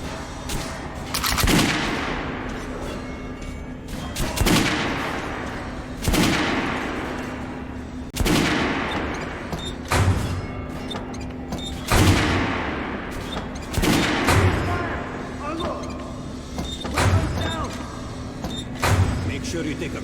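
Gunfire at a shooting practice range in Metro: Last Light Redux, with repeated sharp shots spaced a second or two apart over a steady low hum, while a voice gives instructions throughout.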